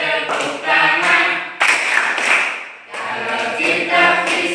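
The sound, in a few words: audience clapping hands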